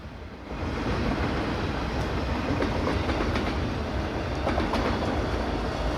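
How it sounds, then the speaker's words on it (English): Trains pass along a track in a recording from the NatureSpace app, a loud, steady rolling roar with faint rhythmic clicks that swells in after a brief quieter start and holds throughout. "Now they're sitting by a train track, and they're at like a place where 4 of them come through at a time."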